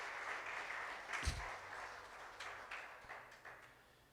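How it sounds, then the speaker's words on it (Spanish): A church congregation claps in praise at a worship service, a fairly faint, diffuse patter of hands that carries on steadily with a few sharper bursts. "Denle una ofrenda de palmas al Señor, por favor"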